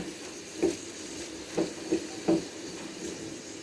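Beef frying with onion and green chilli in a pan, a soft steady sizzle broken by a few light scraping stirs of a spoon, quiet and close, with no talk.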